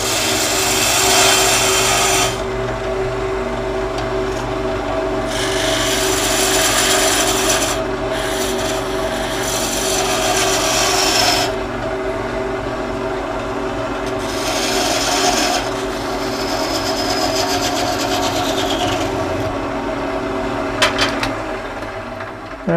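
Narrow parting tool parting off a rosewood lighthouse ornament on a lathe, with alternating bursts of rasping scraping over the steady hum of the spinning lathe and no speech.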